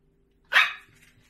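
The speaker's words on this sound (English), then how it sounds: "What are you barking at?" One short, loud dog bark sounds close by inside a home kitchen, standing alone over a quiet background with a soft low hum and a faint trailing after-sound.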